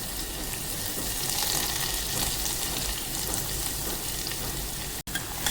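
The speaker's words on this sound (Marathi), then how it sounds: "टाकलेला आहे कांदा फोडणीला" Onion sizzling as it hits hot oil for a tempering with bay leaf, while making pulao: a dense, steady hiss that carries on without a break, with a short drop near the end and no voices.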